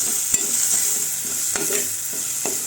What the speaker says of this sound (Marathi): मसाला तेलावर चांगला परतून घ्यायचा.